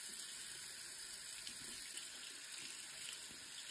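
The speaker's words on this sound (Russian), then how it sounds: "Намочим его водой и посмотрим," Tap water runs steadily into a sink to wet a makeup sponge, a faint even hiss of flowing water with small splashing shifts and no voices over it.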